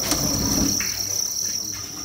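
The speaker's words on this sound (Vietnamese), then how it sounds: "Mấy thùng dế bự." Farmed crickets packed into big harvest boxes chirp in a dense, continuous, shrill chorus, loud and close, with faint rustling underneath.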